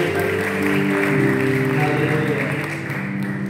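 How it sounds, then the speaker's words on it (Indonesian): A church congregation at a Saturday worship service claps together while a voice speaks over it and music or singing sounds beneath, the clapping continuous and moderately loud throughout. "berikan tepuk tangan luar biasa untuk Tuhan kita."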